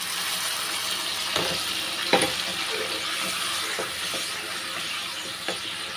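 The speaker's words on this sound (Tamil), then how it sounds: "இப்போ வந்து கொஞ்சமாக தண்ணி சேர்த்துக்கிறேன்" Water is poured into simmering masala in a pan for Tamil green field-bean tamarind curry, giving a steady close hiss and bubbling with a few sharp clicks and clatters.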